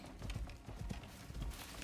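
Horse hooves clip-clopping in the video game Icarus, a quick close run of steady hoof beats on the ground, no talking.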